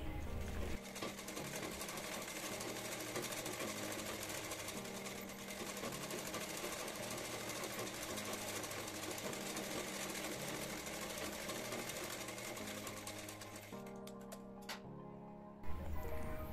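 Sewing machine stitching all around a blouse lining, a steady continuous mechanical whir that runs loud and close for most of the stretch before stopping briefly near the end and starting up again.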